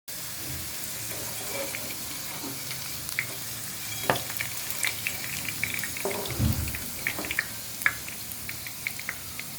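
Potato wedges fry in hot oil, a steady close sizzle with scattered pops and crackles and a brief louder clatter midway, with no talking.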